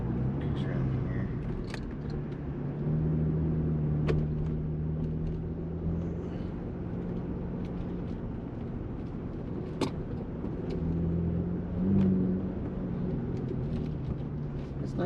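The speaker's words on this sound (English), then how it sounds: "It's a nice little exhaust." A two-door Jeep JL fitted with an aFe Rock Basher 409 stainless-steel 3-inch cat-back exhaust drives at low speed with a steady, muted engine drone inside the cabin, while people talk over it.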